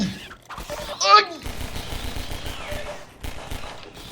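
Weapon fire in Half-Life 2: Episode One comes as quick bursts of shots, loud and close, with someone talking over the action.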